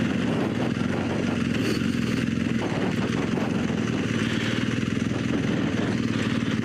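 A BMW R1200GS motorcycle on a sandy, rocky hillside, its engine droning steadily at low revs as it slows under the front brake, a continuous close rumble with no speech.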